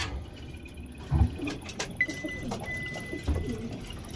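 Racing pigeons in a breeder cage give a few soft, low coos, with light rustling and a brief faint chirp nearby, heard close and quiet over a short span with no talk.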